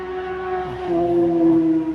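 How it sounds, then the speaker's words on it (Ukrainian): A siren wails with a steady tone that rises slightly in pitch, heard from a distance over faint outdoor background. "Там сирена волає"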